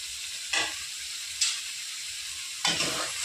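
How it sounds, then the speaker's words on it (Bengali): Spices (salt, cumin powder, chili powder and turmeric) sizzling and being stirred in hot oil for a potato, cauliflower and egg curry, with three short scraping stir strokes over a steady close sizzle. "সব মশলা দিয়ে ভালো করে কষিয়ে নেব।"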